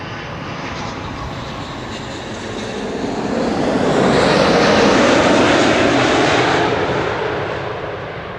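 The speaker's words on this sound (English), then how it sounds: "Next up, KLM Flight 604 arriving from LAX. 777-200." A KLM Boeing 777-200 jet arriving at Amsterdam Schiphol on a windy day, its engine roar swelling from a steady rumble to a loud, broad peak as it passes close by, then easing off.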